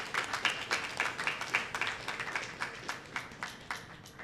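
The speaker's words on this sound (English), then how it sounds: "I think we should give a round of applause for that." A small audience claps at a funding announcement for levee, flood control and drainage projects, a thin patter of hands with regular beats, moderately close and fairly quiet, with no talk over it.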